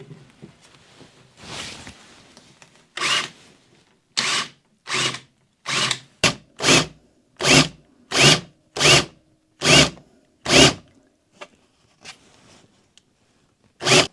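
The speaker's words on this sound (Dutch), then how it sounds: "stop ik en boor ik vanaf de andere kant om splinters te voorkomen" A power drill whines in a series of short, loud bursts, starting and stopping in a steady rhythm as it bores through the wooden panel of a cargo bike box, with no talking.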